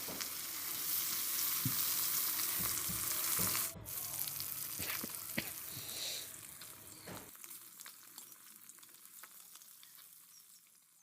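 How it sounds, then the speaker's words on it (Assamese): Fish sizzles steadily as it fries in a pan for a home-style fish and tomato curry, with a dense hiss and occasional stirring taps that quiet down noticeably in the last few seconds. "আৰু এতিয়া মই মাছখিনি ফ্ৰাই কৰি ল'ম"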